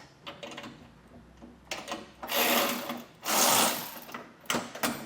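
A power tool whirs in two loud bursts, a rattling mechanical buzz like an impact driver breaking a bolt free on a 2024 Ram 1500, with lighter clicks and rubbing between.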